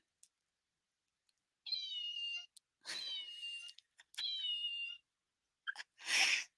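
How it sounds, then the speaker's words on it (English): An electronic toy cat gives three bright, clear synthetic meows with short gaps between them, close and alone in a quiet room, followed by a brief breathy burst at the end. "Oh, this is not obviously a real cat, but I bought it to drive my cat crazy."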